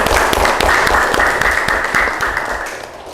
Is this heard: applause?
yes